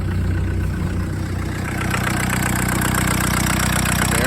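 A VW turbo diesel engine swapped into a Suzuki Samurai idles steadily and loudly up close, with a constant low rumbling throb and a faint knocking clatter.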